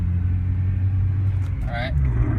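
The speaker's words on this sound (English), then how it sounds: "Sorry for the high rev, it's a little cold, but see, I am driving." A cold Honda Civic Si engine idles high and steady while driving, a constant low drone with a voice speaking over it briefly.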